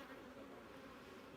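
A close, continuous buzz of honey bees at a hive during an acacia honey harvest, humming steadily at low volume, ending with a brief bump of handling noise.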